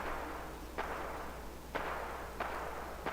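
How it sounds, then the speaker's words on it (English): Distant gunfire in the video game Fallout 4, four sharp cracks spaced irregularly over a low ambient hum, each shot faint and far off. "I hear the sounds of gunfire down there"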